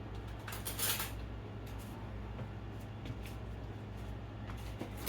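A spoon clinks and scrapes against a bowl, with scattered metallic taps and a faint steady hum underneath.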